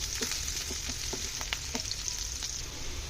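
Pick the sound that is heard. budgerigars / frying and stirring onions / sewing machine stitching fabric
frying and stirring onions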